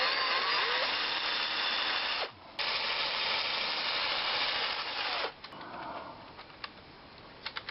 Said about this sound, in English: when we drill these rods, we want to center it in the wing thickness pretty much this way